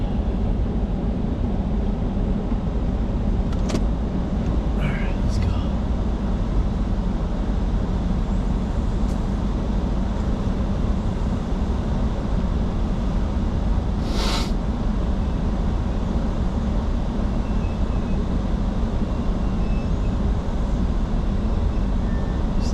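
Mercedes C55 AMG driving with added sound deadening and badly worn brakes, a steady dense road and engine rumble throughout from inside the car, with a few faint brief ticks and no talk.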